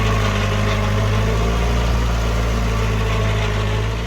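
A tractor engine runs steadily in a farm field, a loud, continuous low rumble with no breaks.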